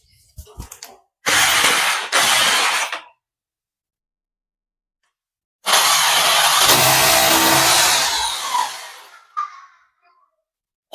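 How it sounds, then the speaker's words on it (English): Two bursts of a power drill whirring at high speed while installing an ozone generator, a short pair of pulses followed by a longer sustained run, with brief pauses of silence between. "After that you will drill and fix the machines"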